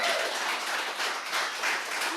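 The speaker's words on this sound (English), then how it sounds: "Give Pedro a nice round of applause." A studio audience claps for Pedro, a steady wash of applause lasting a couple of seconds at moderate volume, with no voices over it.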